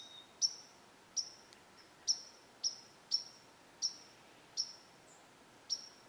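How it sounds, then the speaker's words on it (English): A single bird repeats a sharp, high chirp about once a second, clear and fairly close against a quiet background. "Hear the birds?"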